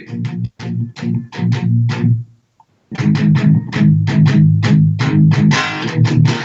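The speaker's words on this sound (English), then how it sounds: "that riff would sound like this if it was just power chords" Chunky, muted guitar power chords strike out a choppy riff, a brief pause, then a faster run of staccato hits, loud and unaccompanied.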